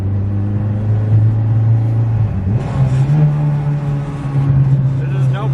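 A Mitsubishi Evo VIII heard from inside during a ride, its engine humming low and steady and then climbing in pitch as it accelerates, with a person talking briefly over the rumble.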